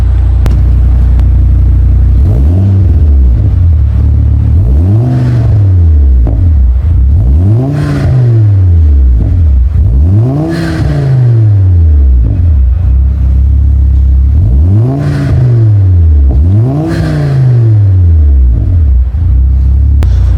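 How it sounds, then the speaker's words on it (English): A Volvo V40 R-Design engine revs repeatedly, rising and falling in pitch in regular swells, loud and close, with a steady rumble underneath. "so you guys can properly hear how a Volvo V40 R-Design sounds"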